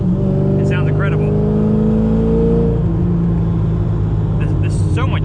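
Engine of a C5 Z06 Corvette shifted up a gear on a back road, a loud droning roar heard from inside the car with a pitch that steps as the gear changes, while someone talks over it.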